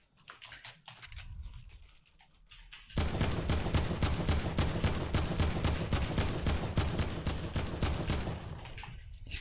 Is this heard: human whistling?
no